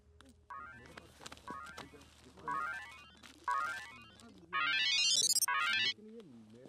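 Phone ringing after a call is placed, a repeating electronic ringtone in rising bursts over a low background hum, growing louder toward the end with a brief burst of talk at the close.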